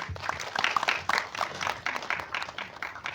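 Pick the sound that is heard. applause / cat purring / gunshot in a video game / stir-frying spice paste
applause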